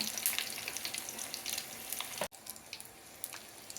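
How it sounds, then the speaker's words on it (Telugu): Tempering of dried red chilies, curry leaves and garlic frying in hot oil, a bright crackling sizzle close by that cuts off abruptly midway, then a quieter sizzle continues. "ఇప్పుడు తాలింపు వేసుకుందాం తాలింపులో ఎండుమిర్చి కొంచెం కరివేపాకు నాలుగు వెల్లుల్లి"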